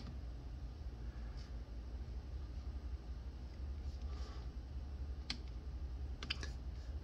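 Quiet computer keyboard typing as a product name is entered, a few faint scattered clicks and a short quick burst of keystrokes over a low steady hum.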